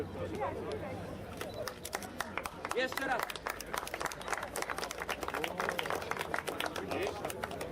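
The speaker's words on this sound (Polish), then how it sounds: "Jeszcze raz wielkie brawa" An award ceremony audience applauds in a sustained burst of dense clapping that swells midway and keeps going, with crowd murmur and a voice talking over it.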